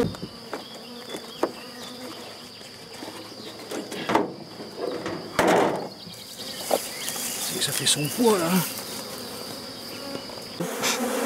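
Honeybees buzz steadily around an open hive during a beekeeper's inspection of the frames, a dense hum close by, while people talk over it.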